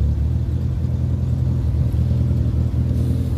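A Kia Carens engine idles roughly with a misfire, a steady low rumble that shakes unevenly, heard up close with no talking.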